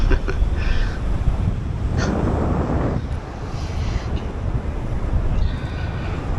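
Wind noise during a paragliding flight, a steady broadband rush buffeting the microphone throughout, with gusty swells and a brief drop near the middle.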